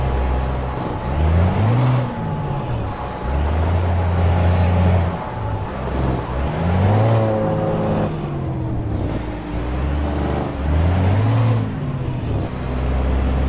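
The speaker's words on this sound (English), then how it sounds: "That I would like to stay in that truck and listen to that motor" Peterbilt 388 truck engine in American Truck Simulator, loud and close, revving up and shifting through gears in repeated rising pulls with a deep diesel drone and brief air-brake hiss between them.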